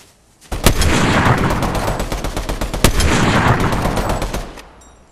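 Rapid automatic gunfire from the video game Fortnite, loud and close, with two sustained bursts of dense shots separated by a brief gap, no voices over it.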